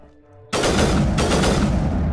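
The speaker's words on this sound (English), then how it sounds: "Nope, burst fire." Burst-fire rifle gunfire in the Mass Effect video game erupts abruptly after a short quiet lead-in, two loud close rapid bursts ringing out back to back.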